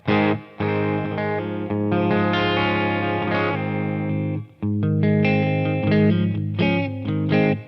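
An electric guitar on a clean amp channel plays chords and riffs through a Dunlop Crybaby Q Zone fixed wah pedal, giving a nasal, gritty tone with short pauses between phrases.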